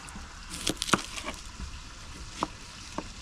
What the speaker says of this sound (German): Mal wie das am Brutzeln ist, ne?